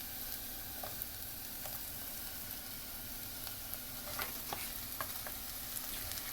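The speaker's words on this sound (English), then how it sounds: "So now I'm just going to dump my cabbage in." Shredded cabbage lands in a pan of browned frying onions for veggie spring rolls, a quiet steady sizzle with scattered soft clicks and scrapes, busier near the end.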